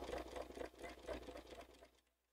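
An overlock serger runs with no fabric under the foot, stitching a thread chain in a fast, steady mechanical chatter that stops abruptly near the end.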